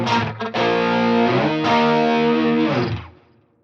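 Electric guitar through a Helix modeler with heavy distortion and a 450 ms slapback-style delay, playing a few sustained, saturated chords that ring out with echoing repeats before fading.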